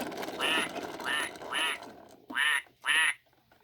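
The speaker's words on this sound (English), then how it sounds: "Here is a duck." A series of five recorded duck quacks played by a Farmer Says See 'n Say toy, loud, nasal and evenly paced, with a brief pause before the last two.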